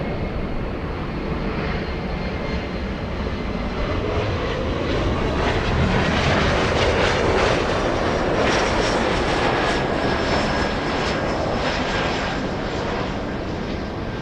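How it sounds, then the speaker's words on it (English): A Boeing Dreamliner jet arriving at LAX after a 13-hour flight from Hong Kong, its engines a steady, loud broadband roar that swells slightly midway and holds throughout, with no talk. "That is a very early turn for the Dreamliner flying in from Hong Kong."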